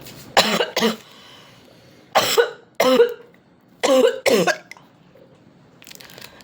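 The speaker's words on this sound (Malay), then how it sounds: "Kenapa batuk" Several coughs come in quick pairs, three clusters spaced a second or so apart, fairly close and moderately loud with quiet gaps between.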